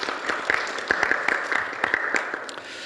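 Scattered, light clapping from a small forum audience at a climate and green energy session in Jeju, individual claps audible at a moderate distance and trailing off.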